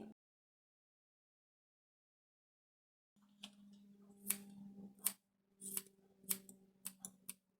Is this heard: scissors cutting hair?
yes